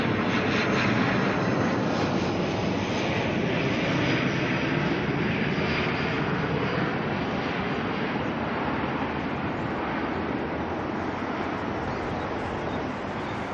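An ATR turboprop airliner arrives from Nelson at Auckland Airport at night, its steady engine roar heard from a distance and holding even for the whole stretch.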